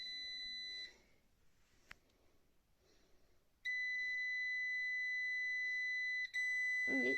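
A solar power inverter in an off-grid home beeps as it restarts, giving steady sustained electronic tones that stop, pause for a few seconds, then resume loud and continuous with a brief break and a faint clunk near the end.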